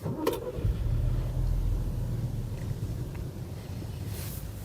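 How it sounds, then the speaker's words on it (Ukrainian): A 2016 Seat Leon FR engine cranks and catches with a sharp start, then settles into a steady low idle rumble close by. "Давайте запустимо двигун."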